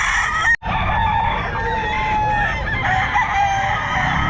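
A bull stag rooster crows loudly and close by at the Bocaue pet market in the Philippines. Its drawn-out call carries over a busy market background, broken only by one brief dropout.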